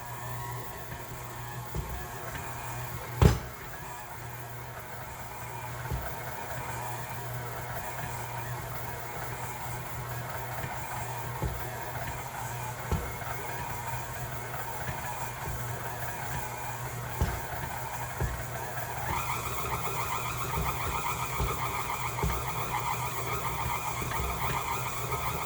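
An electric mixer hums steadily as it blends sausage ball mixture. The motor drones on low for a long stretch, then shifts to a busier, higher speed partway through, with a few soft knocks along the way.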